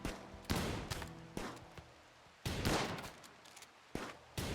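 Gunfire in the video game RimWorld: several separate bursts of shots and volleys, loud and sharp, spaced irregularly across the stretch with no talking.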